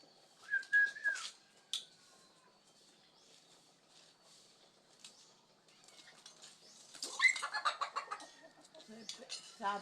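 Chickens clucking and squawking while eating beside puppies, a few short bursts early on, then a busier stretch of soft, overlapping clucks and scuffling, faint and fairly close, with a quiet pause between.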